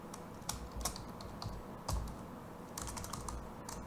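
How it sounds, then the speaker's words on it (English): Keys on a computer keyboard typed at a workshop, a fairly faint, uneven run of clicks with a few louder strikes over a steady low background hum. "I'm going to type group."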